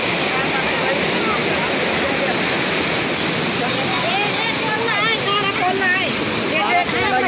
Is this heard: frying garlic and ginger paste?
no